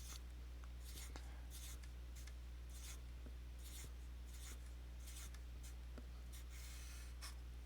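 Handwriting a matrix during a linear algebra lecture: repeated short scratchy strokes of a pen or marker in uneven rhythm, close and soft over a steady background hum, with no talking.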